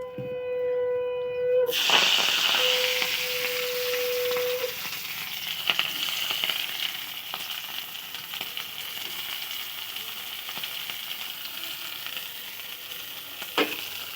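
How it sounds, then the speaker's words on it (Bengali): Onion and chili drop into hot oil left over from frying potatoes and sizzle hard, with a bright steady hiss that starts abruptly after a brief tone and fades slightly, with occasional stirring clicks. "পেঁয়াজ লঙ্কা দিয়ে দিয়েছি, যে তেলটি ছিল আলু ভাজার পরে সেই তেলটির থেকে"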